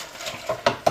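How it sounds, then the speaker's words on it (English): A utensil stirs cornstarch into coconut milk in a bowl, giving quick scraping swirls and a few sharp clinks against the side, close and fairly loud, with no talking. "get it in the bowl little by little and just mix"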